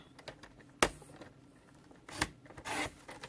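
Paper is trimmed for a papercraft card project: quiet, sparse snips and clicks, then a short rasping slide of the blade near the end, close-up in a quiet room with no talk.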